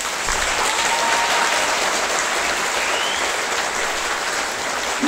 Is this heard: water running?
no